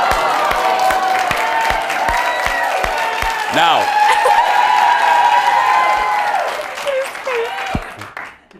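A studio audience breaks into loud applause with cheering and whoops, then the clapping thins and fades as a voice speaks over it.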